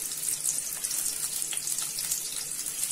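Spices such as garlic, fennel, cloves and cinnamon frying in a pan for Chettinad egg curry, giving a continuous soft hiss and crackle at close range with no voices.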